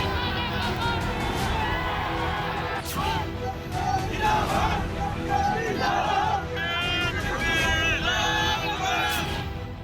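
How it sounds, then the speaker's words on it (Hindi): An angry crowd of supporters protests in Hyderabad against the attack on Owaisi: dense, continuous shouting and chanting, loud and close, with overlapping voices throughout. "ओवैसी पर हमले के खिलाफ समर्थकों का आक्रोश आवाज बनकर आकार ले रहा था"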